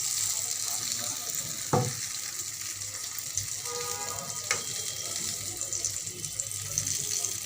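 Eggplant slices fry in oil in a pan, giving a continuous close sizzle broken by a couple of sharp utensil clinks.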